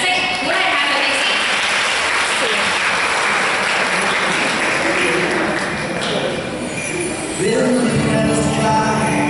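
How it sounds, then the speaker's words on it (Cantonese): Applause from parents and guests at a school graduation ceremony, a steady, dense crowd clapping that carries through the whole stretch with a brief dip near the end. "我哋再一次俾啲掌聲鼓勵下佢哋先"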